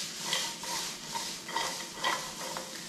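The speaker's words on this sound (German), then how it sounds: "Wir werden jetzt einmal dieses Gemüse anbraten" Onions and other hard vegetables sizzle and fry in a pan for a vegan chickpea-mango curry, with a spatula scraping and stirring in rhythmic pushes over a steady close hiss and no talking.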